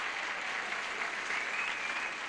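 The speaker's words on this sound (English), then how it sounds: "They're applauding the Hot Rod there." A game show studio audience applauds, a dense, even burst of clapping that holds steady and fairly loud for a couple of seconds without any voices.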